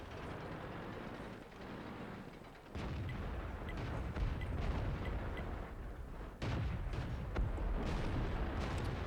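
Tank cannon fire in the World of Tanks game, from a British Cruiser Mk. IV battle: deep booming shots land near 3 and 6.5 seconds over a constant rumbling battlefield din, with no talking.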